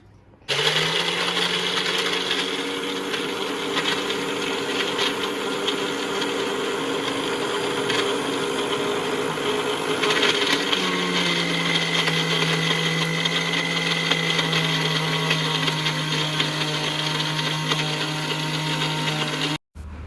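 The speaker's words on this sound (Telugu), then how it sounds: "ఇట్లా ఒక పెద్ద మిక్సర్ తీసుకొని ఇవన్నీ మిక్సీ చేసుకున్నాం" A large electric mixer grinder whirs steadily as it grinds Happy Happy biscuits, a loud continuous motor drone whose pitch shifts partway through, running nearly twenty seconds and stopping abruptly at the end.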